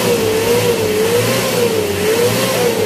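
Car engine revved up to about 4,000 RPM, holding a loud, steady, mid-pitched drone that wavers slightly in pitch throughout, with no voices.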